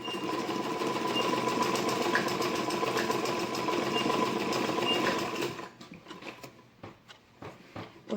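A sewing machine stitching a blouse sleeve runs steadily with a continuous whirring hum for several seconds, then stops, leaving quieter fabric handling sounds.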